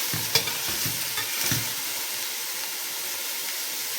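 Chunks of meat sear in a pot over high heat for kabsa, giving a steady hiss and sizzle, with a few clanks of stirring early on; fairly quiet, with no talking.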